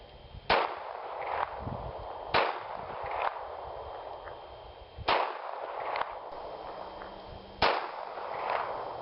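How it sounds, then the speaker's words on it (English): Five sharp reports from a snub-nose .38 revolver, fired two-handed from the holster at an outdoor range, each a loud crack with a brief ringing decay, spaced a couple of seconds apart. "little two-handed shooting this time from the holster"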